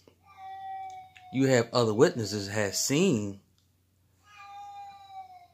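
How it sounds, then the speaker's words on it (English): A cat meows loudly in long, drawn-out calls, with a person talking over part of it before another faint cry follows. "yeah, that's the cat calling."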